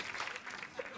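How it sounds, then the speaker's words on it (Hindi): A studio audience on The Kapil Sharma Show applauds the Mirza cast in a brief, dense burst of clapping, with a voice talking over it. "तो एक बार जोरदार तालियां हो जाएं पूरी मिर्जा की कास्ट के लिए"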